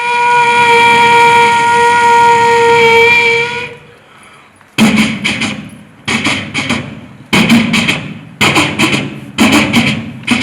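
A mimicry artist at a state school arts festival performs a vocal imitation of an electric train, first a sustained whistle-like horn tone, then a brief pause, then a series of rhythmic rumbling bursts like wheels clattering on rails.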